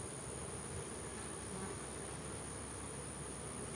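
Honey bees crowd the front of a hive, making a dense, steady, continuous buzz, close and unbroken, with no talking.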